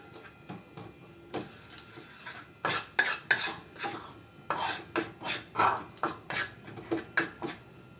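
Pasta is stirred in a pan over medium heat with a utensil, giving a steady series of scraping clinks against the metal, roughly evenly spaced and fairly close, with a constant faint background hum.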